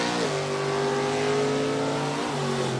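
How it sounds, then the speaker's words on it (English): A 1970 Chevrolet Nova GTJ automatic super stock drag car holds a loud, steady engine drone close by, its pitch rising and then dipping before settling again near the end, with no talk over it. "Stephanie will take the J Automatic, GTJ Automatic 70 Nova for a ride."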